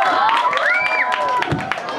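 An audience at a retro dance competition for a 4th-anniversary event on Chico Street applauds and cheers in a dense, steady wash of clapping under a sustained tonal sound, with voices mixed into the crowd noise.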